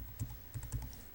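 Light tapping on a computer keyboard, a handful of soft, close keystrokes in an uneven rhythm over a faint background hum, with nobody speaking.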